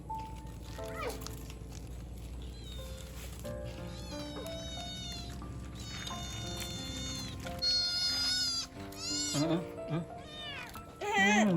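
A cat meows repeatedly in a rural Thai home while food is being shared, with several drawn-out, wavering calls rising toward the end, heard under ongoing background noise.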